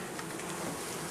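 Honeybees buzzing at a hungry beehive during a Varroa treatment, a steady, close, dense hum filling the short moment without any voices.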